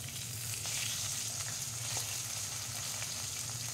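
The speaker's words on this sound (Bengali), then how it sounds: "মাছগুলি ভাজা হয়ে গেছে" Fish frying in a pan of oil for a curry with onion stalks, eggplant and potato gives a steady, close, even sizzle with small crackles, throughout and without talk.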